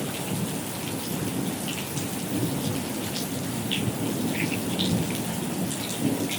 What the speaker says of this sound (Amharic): እየዘነበ ነው።